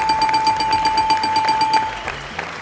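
A loud electronic ringing tone pulses in fast repeated bursts, then cuts off, leaving quieter room noise.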